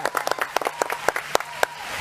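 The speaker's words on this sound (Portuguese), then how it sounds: "bota palmas" Short burst of applause dropped into a football podcast: a scattered run of sharp, distinct claps at moderate loudness, with no one speaking over it.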